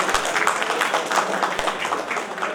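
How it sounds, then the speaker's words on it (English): Steady applause from a modest audience at an inspirational speech competition award ceremony, even and continuous clapping, moderately distant, with no talk over it. "Can we have a round of applause?"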